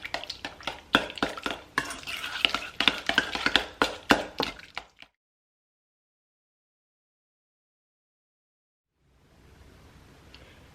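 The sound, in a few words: whisking cream cheese icing in a bowl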